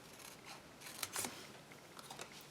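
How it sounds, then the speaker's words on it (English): Scissors snip through paper pieces with a few quiet, crisp cuts, close by but faint, in an otherwise quiet room without speech. "So I'm going to cut those 3 apart."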